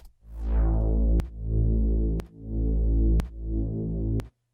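A deep sustained bass in a breakbeat track, ducked with an LFO tool and given extreme EQ, swelling in four pumping pulses cut by short sharp clicks, loud and alone with no voices.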